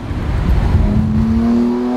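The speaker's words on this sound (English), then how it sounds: "Can you hear some of that backfiring?" A 2020 Lamborghini Aventador SVJ engine revs hard on a test drive, its loud, close drone climbing steadily in pitch through a quick single-clutch gear shift, with no talking.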